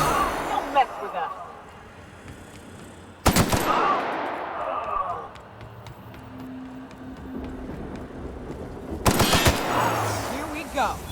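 Bursts of automatic gunfire from a sci-fi shooter game, with two loud sharp volleys a few seconds apart over a busy backdrop of music and battle noise, and people talking in between.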